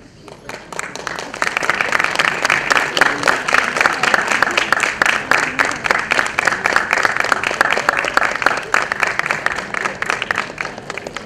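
An audience at a reunion gathering breaks into applause that quickly swells to a loud, steady patter of many hands with distinct individual claps, sustained for several seconds.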